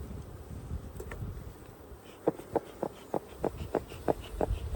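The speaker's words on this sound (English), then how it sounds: "Still quite a lot of bees in here." Honeybees buzzing inside an opened beehive in autumn, a close, steady drone with a string of sharp, regular taps or clicks over the hum.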